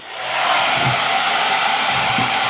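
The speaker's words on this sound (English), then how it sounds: "First, I just blow dry my hair like this." A hair dryer blow-drying hair, running on high speed with a loud, steady whooshing roar that starts abruptly and holds constant, close to the ear.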